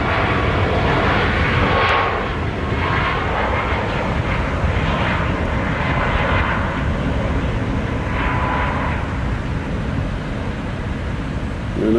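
A Southwest airliner bound for Chicago O'Hare roars through a long takeoff roll at Nashville International Airport, a loud sustained jet rumble with shifting whine, heard near and alone.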